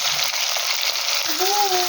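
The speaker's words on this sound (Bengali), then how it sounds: "তো দেখুন আমি মাছগুলো ভেজে নিচ্ছি" Fish pieces, heads and tails, frying in hot oil for a potato fish curry, giving a steady close sizzle throughout, with a tone or whistle rising briefly near the end.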